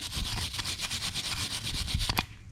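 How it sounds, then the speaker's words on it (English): A wire brush scrubs surface rust off a rear brake caliper mounting bracket on a Mazda CX-5, giving quick, loud, rhythmic back-and-forth rasping strokes up close that end in a sharp final scrape. "I'm just gonna grab a wire brush, get in here, get some of this."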